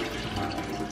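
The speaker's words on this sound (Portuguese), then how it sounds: "Então a gente vai escorrer essa água." Water is poured off salted beef in a home kitchen while making carne de sol, a short steady splashing trickle into a sink.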